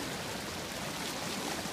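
Bolinas Creek at Stinson Beach rushing steadily after heavy rain, a dense, even wash of flowing water with no breaks, fairly loud and close, and no voices.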